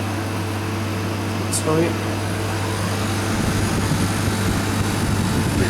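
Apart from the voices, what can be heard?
milk vending machine fans running after being plugged in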